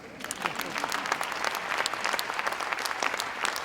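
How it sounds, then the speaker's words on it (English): Audience applause at a musical tribute concert: sustained crowd clapping, dense and close, with sharp individual claps standing out and a murmur of voices underneath. "Yes, you can clap."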